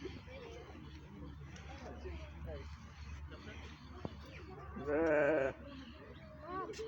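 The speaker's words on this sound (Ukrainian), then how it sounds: "Якась вівця курдючна." A fat-tailed sheep bleats once loudly and nearby over a steady background hum, with people talking quietly through much of it.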